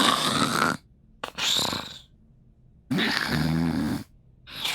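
A voice imitates a fantasy character snoring, with a few loud, throaty snores in bursts separated by silent gaps, close and alone.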